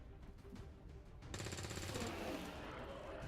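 Ballistic gunfire in XCOM 2: a quiet rattle of shots that swells into sustained rapid automatic fire partway through, low in overall level.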